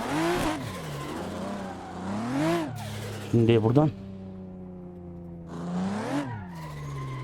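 A car in the racing game Assetto Corsa, driven in traffic mode on a GTA 5 map with damage enabled, revs and accelerates in rising engine sweeps, then skids with a brief sharp tire squeal while someone talks over it.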